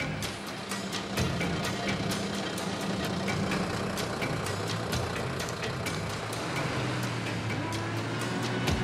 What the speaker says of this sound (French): Les 2 camions forcent.